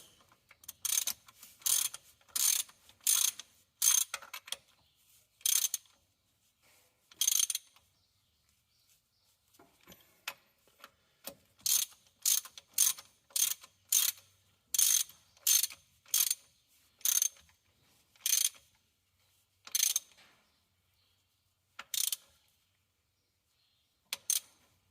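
A ratchet wrench torquing bolts underneath a Case DX45 tractor clicks in loud, close bursts of rapid ratcheting, with groups of strokes separated by short pauses across the whole stretch.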